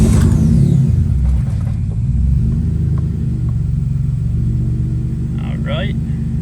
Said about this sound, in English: Let's see if she starts.